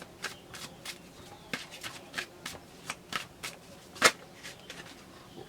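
A deck of tarot cards being shuffled during a card reading, a series of close riffling flutters and taps in an uneven rhythm, with one sharper snap near the end.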